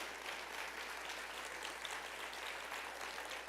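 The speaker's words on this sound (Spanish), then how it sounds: "denle un aplauso al Señor fuerte" Faint, steady applause from a church congregation during a Spanish-language service, continuous and distant with no speech over it.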